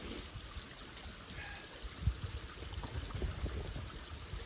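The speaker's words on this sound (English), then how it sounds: "I can stick my head out and look at the river, stream, babbling brook" Water in a woodland stream flows with a soft, steady rushing hiss at a distance, faint and continuous, with a few small splashes and taps during a rainstorm.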